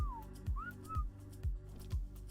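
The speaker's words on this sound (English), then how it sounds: "So we gotta whistle around here." A player's whistle command rings out to a Quetzal in Ark Survival Evolved, a few short pitched tones gliding down then up over a steady pulsing game rumble, clear and close with no speech.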